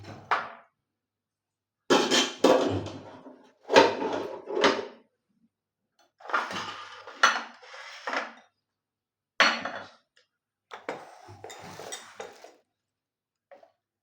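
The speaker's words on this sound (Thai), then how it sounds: "หั่นซอยพริกเนาะ" A knife slices chilies in several bursts of quick, close chopping against a board, separated by short silent pauses.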